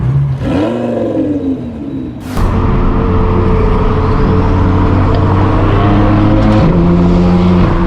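A straight-piped BMW M4 F82 pulls away on a canyon road. Its loud, raspy exhaust roars through gear changes, with a sharp upshift crack partway through and sustained heavy drone close by.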